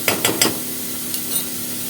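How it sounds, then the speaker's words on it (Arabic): Onion and spices being sautéed as a stuffing mixture in a pan, with a few quick scraping stirs up front, then a steady, soft sizzle. "نديها تشويحه كده، ونحط التوابل بتاعتنا بقى"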